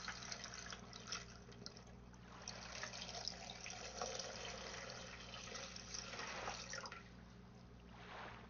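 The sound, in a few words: water filling ozone produce washer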